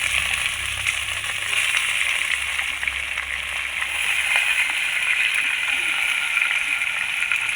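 Beef dropped into hot oil in a pan for a home-style beef dish, giving a steady, loud, continuous sizzle and fry close by with no pause throughout.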